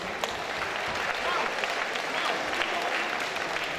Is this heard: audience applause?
yes